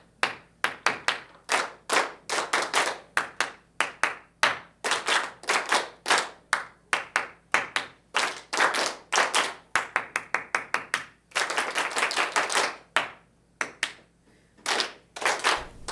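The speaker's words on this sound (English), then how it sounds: "Okay, we'll clap, and then we'll go to the instruments after this" Children in a music class clap together in a steady rhythm, sharp hand claps arriving in quick rhythmic bursts with brief pauses between phrases, close and loud with no talking.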